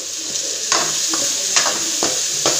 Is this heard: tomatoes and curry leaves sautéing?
yes